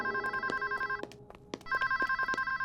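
A telephone rings with repeated electronic trill bursts in a steady pattern, punctuated by a few sharp knocks or clicks, with a brief pause in the middle before the ringing resumes.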